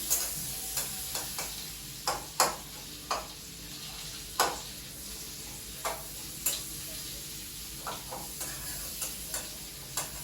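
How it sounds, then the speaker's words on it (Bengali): Onion frying in butter for white pasta, a steady sizzle with repeated sharp clinks and scrapes of a utensil stirring against the pan, close and moderately loud with no talking. "বাটারের মধ্যে পেঁয়াজটা ভাজছে"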